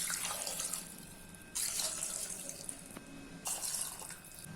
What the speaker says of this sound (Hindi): अभी इसमें 2 से 3 कप पानी ऐड कर देते हैं